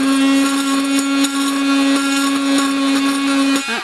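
A power drill cutting a tin can whines at a steady high pitch for several seconds, loud and close, then spins down abruptly at the end.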